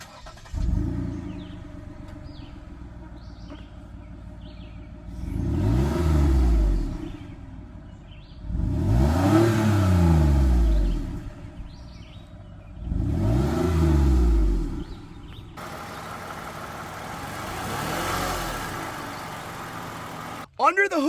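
A Toyota Venza's 3.5 liter V6 runs near and fairly loud, swelling through three distinct revving bursts between steadier idling stretches, with no talking.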